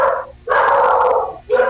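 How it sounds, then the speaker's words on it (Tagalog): A dog makes two or three loud, sustained vocal bursts close by, barks or howl-like yelps drawn out with brief pauses between them, in a home setting with no speech. "Nagwawala yung aso."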